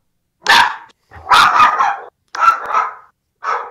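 Several dogs bark excitedly in four close, loud bursts separated by short pauses, each a cluster of sharp overlapping barks with no talking.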